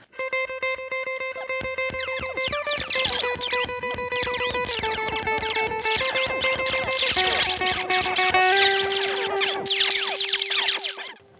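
Electric guitar run through an Arturia FX Collection grain delay, held notes stepping down in pitch while a dense, glitchy cloud of granular echoes and swept fragments builds above them, loud and continuous with no talk.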